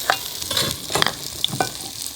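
Mushrooms and zucchini stir-frying in perilla oil in a pan, giving a soft, steady sizzle with scattered stirring scrapes and clicks of a utensil, close and moderately quiet, with no one talking.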